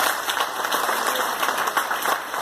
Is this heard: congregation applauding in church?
yes